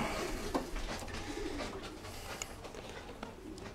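Racing pigeons coo in a breeding loft, a soft steady murmur of several birds close by with scattered louder calls and faint rustling, no talking.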